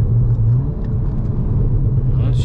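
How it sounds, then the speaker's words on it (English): A deep, bassy exhaust from a tuned 400 bhp VW Golf R rumbles steadily up close, loud and throaty, with a low droning tone and a faint hiss near the end. "Have a listen with the windows down, man. It's proper deep and bassy."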